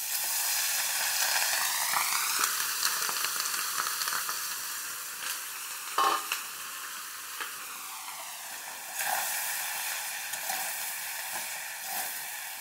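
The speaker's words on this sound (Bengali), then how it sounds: "এই যে সুন্দর ঝরঝরে ভাত করা বানিয়ে নিয়েছি, এখন দিয়ে দিচ্ছি।" Cooked rice going into a hot pan for vegetable fried rice, with a steady loud sizzle and hiss throughout, broken by a few scraping stirs and brief louder spits.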